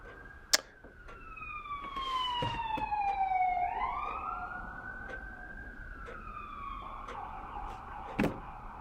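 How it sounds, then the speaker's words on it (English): An ambulance siren wails past, its tone sliding downward as the vehicle passes, with faint traffic rumble underneath and no talking. "just had to let the ambulance roll by"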